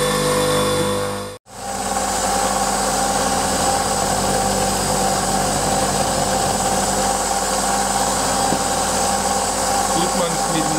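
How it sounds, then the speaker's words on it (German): A motor-driven polishing wheel for sharpening scissors and knives runs with a steady, continuous hum that briefly cuts out near the start, loud and close, with talk over it. "Jetzt gehen wir zum Polieren."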